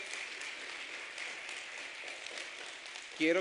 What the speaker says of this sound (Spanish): Le damos un fuerte aplauso, Señor